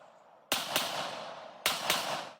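Two sharp 9mm handgun shots ring out about a second apart, each a loud crack followed by a brief decaying echo, with no talking.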